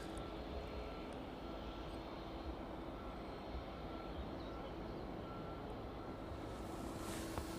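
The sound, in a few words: aircraft at East Midlands Airport runway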